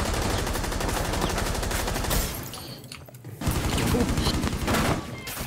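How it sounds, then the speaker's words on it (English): Heavy gunfire from big guns in Rainbow Six Siege, a loud continuous barrage of rapid shots that drops away briefly in the middle before a second burst resumes at full strength. "Everybody fire their big gun in succession"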